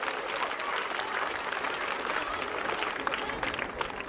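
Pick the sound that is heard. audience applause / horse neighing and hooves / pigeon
audience applause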